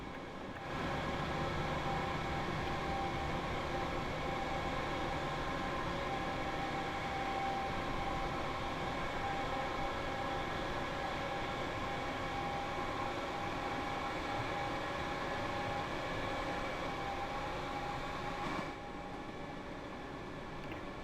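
Class 313 electric train in Train Sim World 2 on the East Coastway, struggling to accelerate: a steady droning motor hum with a constant whine and rolling noise, unbroken and even throughout.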